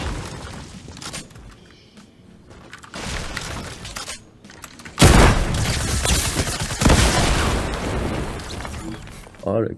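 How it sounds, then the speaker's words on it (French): Bazooka blasts in the battle game Fortnite, a sudden loud explosive burst around the midpoint followed by a second heavy crack, with scattered game noise before; a player talks over the action. "Je m'attendais pas à me prendre un coup de bazooka clairement."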